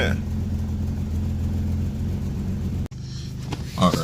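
A boosted BMW E36 engine idles steadily up close, a low constant rumble with a brief dropout near the end before the idle resumes.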